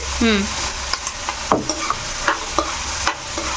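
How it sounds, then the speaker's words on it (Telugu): Ginger paste, about two big spoonfuls, is stirred into a pan while vegetable biryani cooks, giving a steady close sizzle with repeated short scraping knocks of the spoon, and a brief voice is heard at the start. "ఇదిగో అల్లం పేస్ట్ వేస్తున్నాను"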